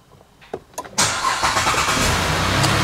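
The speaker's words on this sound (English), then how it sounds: "I'm gonna go ahead and start my engine up here" A car engine starts near a scan tool setup: a few faint clicks and taps, then a sudden loud crank that catches and settles into a steady idle.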